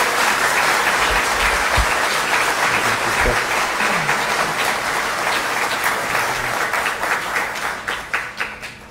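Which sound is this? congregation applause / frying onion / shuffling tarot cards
congregation applause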